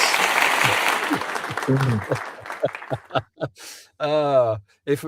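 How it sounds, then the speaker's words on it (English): Audience applause on a live Adelaide television talk show as a guest comes on, a burst of clapping that fades within about two seconds, followed by the host's voice speaking. "Does he get a round of applause, Big Al?"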